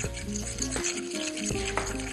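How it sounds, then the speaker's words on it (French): Egg yolks and sugar being stirred together in a bowl for a frozen nougat dessert, a steady close scraping and swishing with a few sharper knocks of the utensil against the bowl, no voices. "Je vais ajouter mon sucre avec mes jaunes. Je vais tout mélanger."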